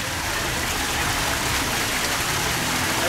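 Steady broadband rush of water from a small waterfall in a peaceful garden area at an aquarium park, continuous and fairly close, with no voices over it.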